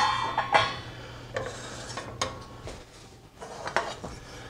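Chicken and rice is scooped out of a single pot, with metal utensils scraping and clinking against the pot and plate in several close, sharp strikes over a low steady hum, no talk.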